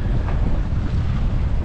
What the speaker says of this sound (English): Gusting 15 mile per hour winds here.